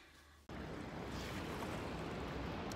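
Rhine Falls waterfall, a steady broad roar of rushing water that starts abruptly and continues loud and unbroken.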